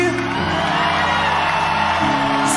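A worship service crowd screams and whoops together in a loud, sustained roar, with low musical tones from the praise band running underneath.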